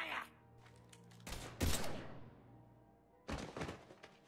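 Gunfire in the video game Mass Effect 3, quiet bursts of shots and impacts in a couple of clusters with reverberant tails, separated by short pauses.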